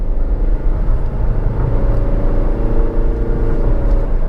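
Inside a Honda BR-V climbing a steep mountain road between Tak and Mae Sot, the engine groans at about 3000 rpm. It makes a steady, loud, droning hum with road rumble, unbroken and without voices.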